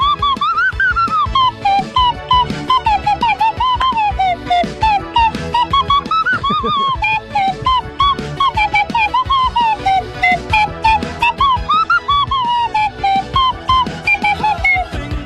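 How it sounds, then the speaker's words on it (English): A shrill whistle-like melody, played on a radio talk show, warbles continuously in a wavering, repeating tune over a busy, loud music backing for the whole stretch, with no talk over it. "Stupid whistle. Turn it off."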